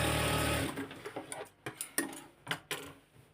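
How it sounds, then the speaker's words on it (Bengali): A sewing machine stitching a pajama, starting with a short loud continuous run, then slowing into separate close rhythmic needle clacks. "দুই দিকে দেওয়ার পরে সেলাই শুরু করলাম।"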